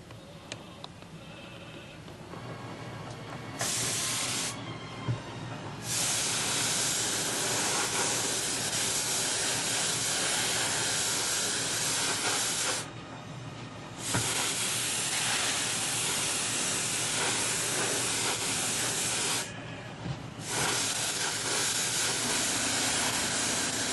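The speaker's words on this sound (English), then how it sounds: "And then we'll airbrush in around the edges." An airbrush sprays paint in several long, close bursts of steady airy hiss, each lasting a few seconds to several seconds, separated by short quiet gaps, with no voices.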